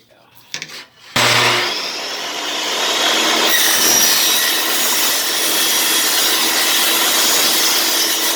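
A saw cuts a laminate flooring piece along a guide, starting abruptly after a few light knocks and running as a loud, sustained rasping whine for the rest of the clip.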